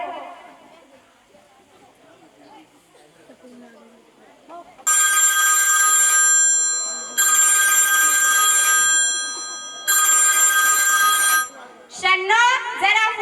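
A telephone rings in a household, three long loud bursts of bright ringing separated by short gaps, following quiet indoor chatter; a voice briefly answers at the end.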